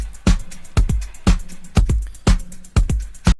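A track, thick sampled-sounding drums hitting in a steady, punchy pattern with a choppy pad behind, about six heavy hits in a few seconds.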